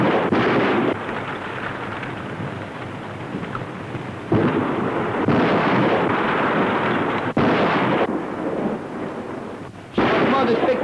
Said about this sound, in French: Voici de magnifiques geysers.